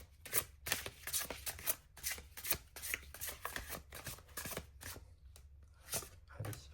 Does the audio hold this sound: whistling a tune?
no